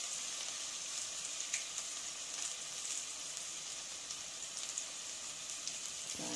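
Crushed ginger and garlic sautéing in a pan, a soft continuous hiss of sizzling oil at low volume with a few faint crackles and no talk.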